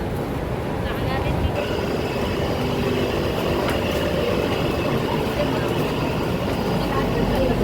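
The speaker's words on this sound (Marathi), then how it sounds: "CSTवर सुटणारी ही लोकल आहे." A Mumbai suburban local train departing CSMT, rumbling along with a steady low drone and faint rattling, occasional higher clanks over the continuous mechanical noise.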